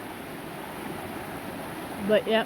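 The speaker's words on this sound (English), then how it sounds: "So you have a creek here, so it's really nice." A creek flows beside a trail shelter with a steady, soft rushing wash that continues throughout, and a voice speaks briefly near the end.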